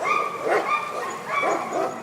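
Several dogs at an animal sanctuary bark and yip in quick overlapping bursts, fairly close and moderately loud with higher whiny tones mixed in.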